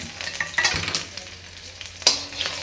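Chopped garlic dropped into a kadai and frying, a close crackling sizzle with sharp spits and a burst of crackle toward the end, no speech.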